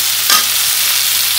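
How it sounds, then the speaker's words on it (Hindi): Chillies frying in a pan with tomato and masala give a steady, loud, close sizzle, with a brief stir near the start and no talking. "यहाँ पे अभी कुछ देर तक फ्राई करेंगे"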